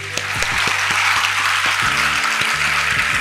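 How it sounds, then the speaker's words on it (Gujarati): A large audience at a motivational speech event claps loudly and steadily, dense applause throughout with a few whoops, close and full. "એમના માટે એક જોરદાર તાળીઓ પાડી દો"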